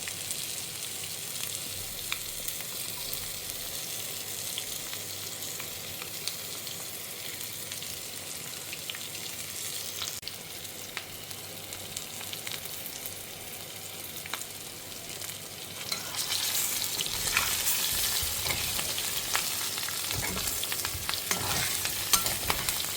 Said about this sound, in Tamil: இது கம்ப்ளீட்டாக ரோஸ்ட் பண்ணி ஆஃப் பண்ணிட்டோம் அப்படின்னாக்கா உருளைக்கிழங்கு ஃப்ரை ரெடி ஆகிடும்